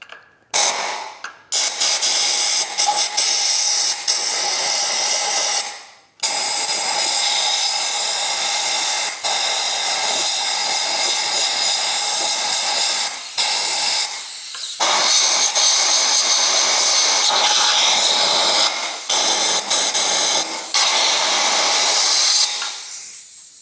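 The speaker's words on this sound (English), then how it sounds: "blow out with the air line here." A compressed air line blows out the spark plug holes on a Honda CB500X motorcycle, a loud, close, steady hiss in long bursts with a few brief gaps between blasts.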